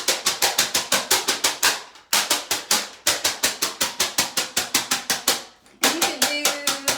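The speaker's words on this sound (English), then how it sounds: "And when you clap, you're gonna try to keep the paper between your hands." Fast hand clapping with a sheet of paper held between the palms makes loud, crisp, evenly spaced slaps in quick bursts with brief pauses between them. A voice speaks faintly near the end.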